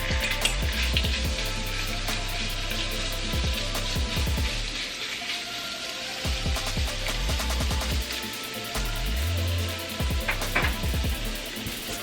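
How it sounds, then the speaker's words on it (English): Seasoned shrimp, coated in salt, pepper, onion and garlic, fry in a hot pan for shrimp fried rice, giving a loud, steady sizzle with scattered crackles and occasional low thumps of stirring, close up and without talk. "we'll get these shrimps fried up right now"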